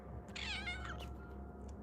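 A young foster kitten named Marie gives a single drawn-out meow, close and clear over a low steady room hum, with a soft rustle just after.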